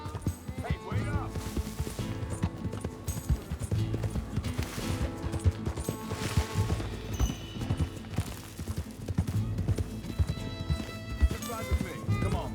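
Horse hooves clip-clopping at a steady riding pace in Red Dead Redemption 2, a continuous rhythmic drumming with occasional snorts, mixed with background game sound and voices talking.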